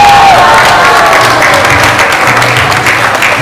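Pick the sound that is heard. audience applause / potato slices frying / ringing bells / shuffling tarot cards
audience applause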